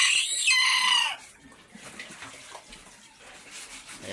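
A mother hen with her newly hatched brood of seven chicks: a burst of high chirping opens the moment, followed by quieter soft clucks and peeps amid faint background noise.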